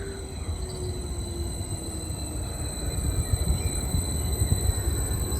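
A train pulls into Lingwood railway station, a steady low rolling rumble that grows slightly louder, with faint high wheel squeal tones above it and no talk.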